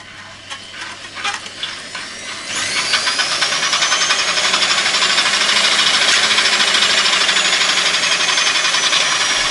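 Homemade electric bicycle driven by a washing machine motor and throttled by a drill's soft-start trigger: a few irregular clicks and bumps, then a loud, steady high-pitched whine and hiss that spins up and holds at constant speed.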